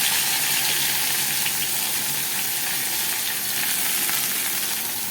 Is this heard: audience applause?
no